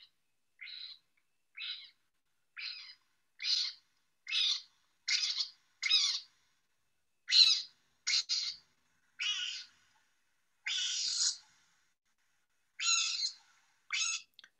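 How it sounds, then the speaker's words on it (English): Calls of a fat dormouse recorded at the ruins of the Salföld Pauline monastery in Hungary: a series of about fourteen short, rasping squeaky calls at a fairly steady pace, close and clear against otherwise silent surroundings. "So this is the dormouse."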